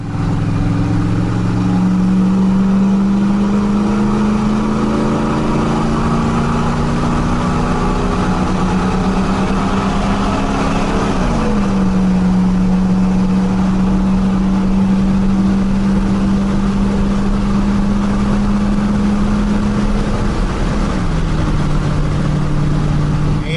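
A 2020 Ford F350 Super Duty with the 7.3 engine cruises at about 71 mph, near 2,400 RPM, while towing a camper: a steady, loud interior drone of engine and road noise with a low tone that shifts slightly in pitch.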